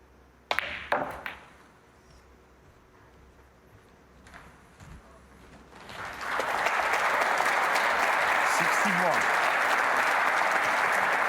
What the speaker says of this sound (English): Applause from his home crowd for an excellent recovery positional shot.